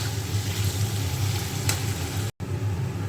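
Chicken with onion paste, chopped carrot and ginger-garlic paste frying in a pan, a steady close sizzle running continuously with a brief dropout near the end and no talking.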